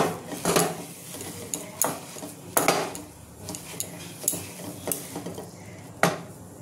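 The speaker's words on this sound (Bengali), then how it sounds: "এবার এর মধ্যে ধনেপাতা কুচিটা দিয়ে দেবো, সবটাই দিয়ে দেবো। এটা আমি ভালো করে মিশিয়ে নেবো।" A spoon scrapes and knocks against a pan while potato paratha filling is mixed with chopped coriander, giving irregular metallic clinks and scrapes with a faint sizzle underneath.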